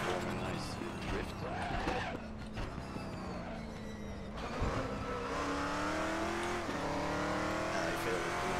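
Race car engine in the RaceRoom racing game, revving and howling through a drift attempt with shifting pitch and tire noise, someone talking over it.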